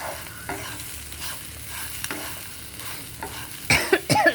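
Coconut pieces fry in a pan for a coconut chutney, giving a steady close crackle with intermittent stirring scrapes and a few louder clatters near the end, no voices.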